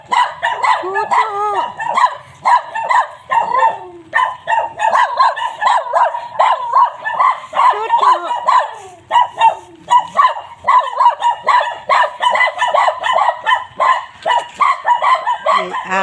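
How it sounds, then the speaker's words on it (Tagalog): Several dogs bark and yip rapidly and continuously, loud and close, overlapping each other with hardly a pause across the whole stretch. "May mga aso."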